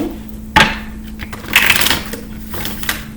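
Quick bursts of cards being riffled and shuffled, a few short crisp flurries close by with brief pauses between them.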